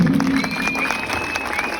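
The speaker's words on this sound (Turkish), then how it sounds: "polislerimize buradan bir alkış, bir teşekkür" A crowd at a Yeniden Refah Partisi mayoral candidacy rally in Artuklu applauds the police, a brief burst of many hands clapping at a fairly even level.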